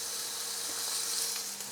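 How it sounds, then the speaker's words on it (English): Soft, steady sizzling hiss of steak cooking on a hot grill, faint and continuous with no voices. "oh, listen to that sizzle"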